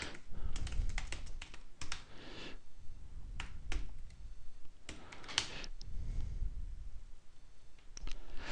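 Typing a password on a computer keyboard up close: irregular bursts of crisp key clicks with short pauses between runs, steady and fairly quiet, with no talking.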